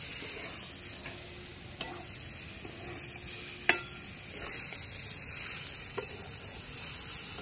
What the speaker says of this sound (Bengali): এবার মানকচুগুলো দিয়ে দেবো। দিয়ে ভালো করে কষিয়ে নেব।